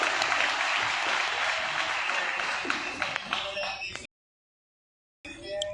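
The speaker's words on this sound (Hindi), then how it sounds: "शुभ्रा मौसी के लिए जोरदार तालियां प्लीज" An audience at a stage event breaks into loud applause, a dense continuous roar of clapping with some crowd noise, which then cuts off abruptly before faint sound returns.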